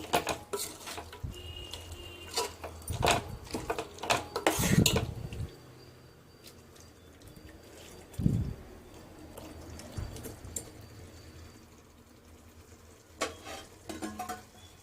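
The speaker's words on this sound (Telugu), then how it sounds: "ఇదంతా ఒకసారి ఇలా మసాలంతా కలిసేలాగా ఒకసారి ఇలా కలుపుకోవాలి" Mutton biryani masala being stirred in a metal pot: irregular scraping and clanks of a spoon against the pot, with a few louder knocks, over a faint background sizzle.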